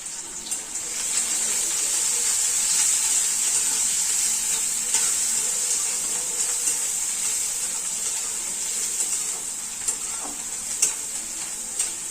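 Curry leaves and onion fry in hot oil with a steady, continuous sizzle that holds near and loud throughout, broken now and then by faint stirring clinks, with no voices over it.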